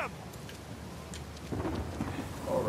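Rain falls steadily on an island in the video game Uncharted 4, a soft continuous hiss with faint low rumbles of thunder that swell slightly toward the end.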